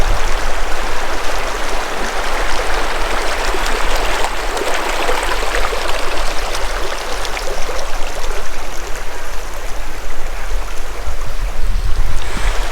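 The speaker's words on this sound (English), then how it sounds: "we got to listen to this beautiful creek here" A creek runs over rocks beside rock walls at a James River campsite in Alberta, a loud, constant broadband rush of water with no breaks and no voices.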